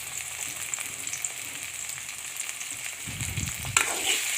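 Chopped raw green chillies hit hot oil alongside onion and tomato, sizzling and crackling steadily in a pan, with a soft scrape of stirring and a brief louder clatter near the end.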